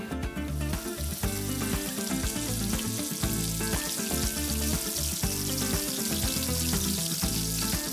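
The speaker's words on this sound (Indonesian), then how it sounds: "Ini kita tumis dulu" Spice paste sautéing in a pan for a chicken dish, a loud continuous sizzle and crackle of frying oil with some stirring clatter, close up and steady, no talk.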